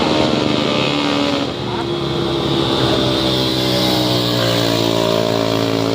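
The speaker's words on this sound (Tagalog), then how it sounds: "Yung, yung tunog ng motor niya, pasabog na eh." A motorcycle engine roars close by on the Marilaque highway, held at high revs with a steady, droning growl that barely dips before climbing again.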